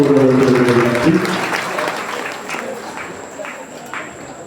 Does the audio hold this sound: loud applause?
yes